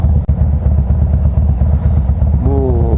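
Harley-Davidson Fat Boy Special exhaust fitted with a variable SuperTrapp, a loud, close, steady low rumble while riding, with a brief rising whine layered on top near the end.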